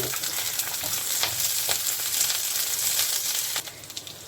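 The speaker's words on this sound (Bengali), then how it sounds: "অল্প তেলে যে কয়েকটা ক্যাপসিকাম ভেজে নিচ্ছি" Capsicum frying in a little oil gives off a dense, close sizzle with occasional stirring scrapes, dropping quieter near the end.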